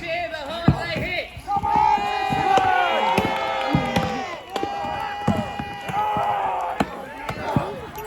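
A crowd shouts and cheers loudly and continuously at a historical re-enactment event at Aston Hall, Birmingham, with sharp thumps and smacks punctuating the noise and voices calling out over it.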